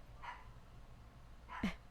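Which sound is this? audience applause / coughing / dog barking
dog barking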